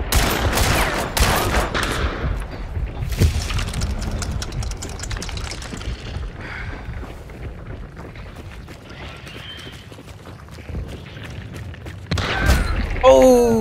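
Gunfire in the video game Hunt: Showdown, bursts of sharp shots crowded together at the start, then sparser scattered reports over a low background, with a few loud hits near the end.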